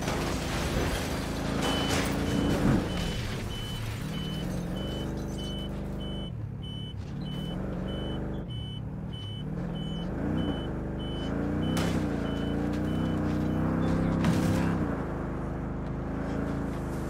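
A big truck in a video game reverses with a repeating series of beeps over engine rumble and mechanical clanks, fairly near and steady, with no talking.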